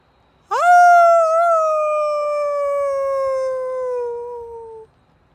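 Voices imitate a wolf howl in an outdoor yoga session, giving one long sustained howl that rises sharply and then slowly falls in pitch, loud and near against a quiet background.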